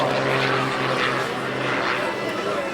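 A propeller airplane flies over at the 2003 Lunken Airshow. A loud, broad engine roar swells and fades, with a steady low drone under it, and an announcer talks over it.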